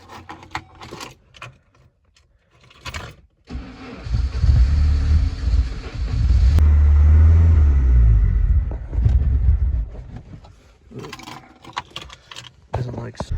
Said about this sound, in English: let's start it up and see if anything works